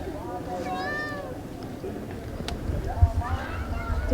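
Cats being fed rice meow outdoors on Turkey's southwest coast along the Lycian Way near Kalekoy. Two drawn-out, rising-then-falling meows sound close and clear, separated by a quiet pause, with light background noise.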